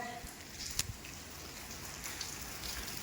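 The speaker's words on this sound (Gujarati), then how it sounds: "તો એ વરસાદી ચાલુ છે" Soft, steady rain patters in a Gujarat village with occasional louder drops, a faint diffuse hiss throughout.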